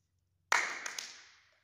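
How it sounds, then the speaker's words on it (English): Hands clap sharply during a physical education lesson, a crisp, close first clap followed quickly by two lighter ones, ringing briefly in a quiet room. "Clap 3 times."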